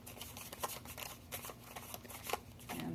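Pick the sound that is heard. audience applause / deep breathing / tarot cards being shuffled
tarot cards being shuffled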